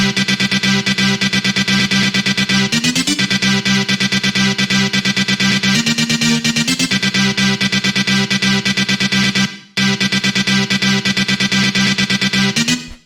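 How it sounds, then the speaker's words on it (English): Loud, heavily distorted synth music plays continuously, with shifting low notes and a brief cutout near the end, the sound slightly smeared by a short reverb. "we have this really short reverb on here"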